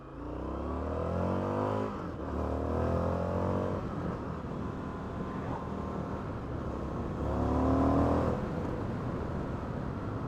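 A 2019 Indian FTR 1200 S flat-track motorcycle's engine drones steadily while being ridden, rising in pitch through shifts and swelling loudly near the end as the throttle opens.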